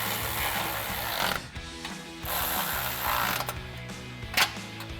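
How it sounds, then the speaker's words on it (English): A ratchet with a 16mm socket tightens the mounting bolts of a RedRock TCX HD front bumper on a 2019-2024 RAM 1500 pickup. Rapid pawl clicking runs in close, steady bursts with short pauses between strokes and no talking. "grab our ratchet, 16mm socket, and a 16mm wrench"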